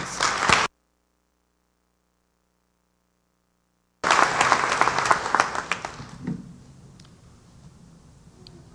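An audience at a 2014 honors ceremony bursts into applause for Computer Science Department honorees: a short burst, a gap of silence, then sustained clapping that gradually thins out.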